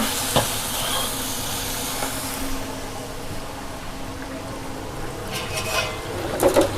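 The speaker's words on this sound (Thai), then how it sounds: "จัดการผัดให้หอมเลยนะคะพี่น้องคะ" Shrimp being stir-fried with red curry paste in a pan in a home kitchen, giving a steady close sizzle and hiss with a few scraping stirs and clinks, and no talk.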